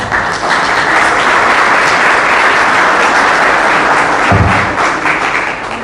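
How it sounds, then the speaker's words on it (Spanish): Warm, sustained applause from a conference audience in Honduras greeting invited guests, loud and dense throughout, with a soft thud near the end. "Por favor, denles un caluroso aplauso."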